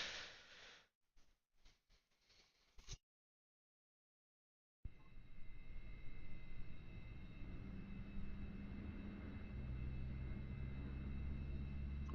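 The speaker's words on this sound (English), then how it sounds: "I mean, I hear airplanes" Aircraft flying in the DCS World combat flight simulator game: a steady droning engine rumble that swells slightly over time, preceded by brief choppy bursts and a short silent gap.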